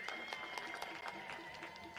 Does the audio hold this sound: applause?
yes